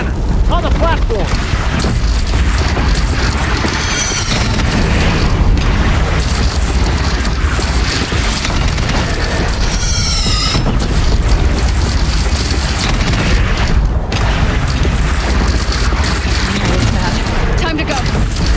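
Cannon fire and explosions boom continuously during a large machine battle in the video game Horizon Zero Dawn, with dense, loud, overlapping blasts and mechanical clatter throughout and voices mixed into the din.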